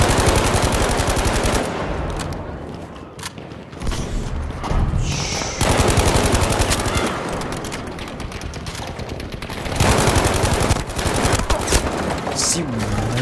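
Dense, loud automatic gunfire in the video game Battlefield 5, nearly continuous bursts of rapid shots with short lulls and occasional heavier thuds, voices faintly under the din.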